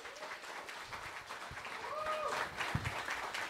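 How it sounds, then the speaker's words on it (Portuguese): Audience applause at a stage hypnosis show, soft, fairly distant clapping running steadily under faint voices, with a few sharper claps near the end. "Uma salva de palmas para os nossos astros."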